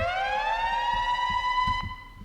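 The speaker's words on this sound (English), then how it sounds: "Siren." A synthesized siren in a trap music production, a single smooth tone that slowly glides upward and holds, loud and clean over a soft low pulse of the beat.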